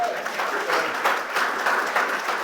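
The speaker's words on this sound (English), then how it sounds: "Let's have another round of applause for Dr." An audience at a foundation presentation event applauds for a speaker, with steady, moderately loud clapping from a crowd that carries evenly through the whole stretch.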